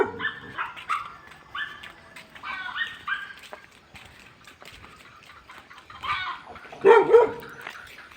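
A large dog gives a few scattered barks and yelps, with a louder, closer bark near the end and quiet background noise between.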